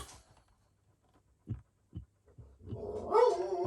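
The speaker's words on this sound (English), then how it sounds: "So if you can hear him barking, apologies." A dog barks outdoors on a street, giving a few short, faint, distant barks spaced apart, followed by louder muffled noise.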